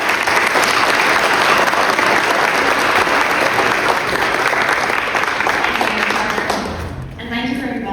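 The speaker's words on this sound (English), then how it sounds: "So give her a round of applause." An audience at a Philadelphia city business tax program event applauds loudly and continuously for about seven seconds before the clapping dies away and a speaker begins talking.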